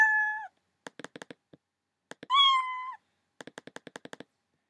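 Two raised-pitch cat meows from a Scratch programming sound effect, each followed by a quick burst of clicking taps, with a final run of rapid clicks at the end.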